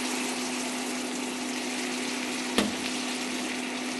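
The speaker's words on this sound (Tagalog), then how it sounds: "At maglalagay rin tayo ng konting tubig." A little water is poured into a pan of simmering shrimp adobo, giving a steady hissing gush with a constant hum underneath, interrupted by one sharp clack partway through.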